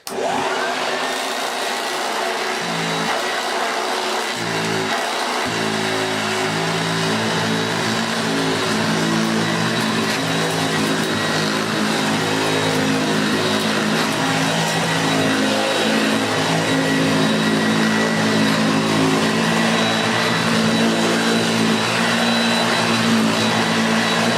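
A Hoover Junior 1334A upright vacuum cleaner motor runs steadily and loudly throughout, with a brief dip near the start before settling into a constant whine.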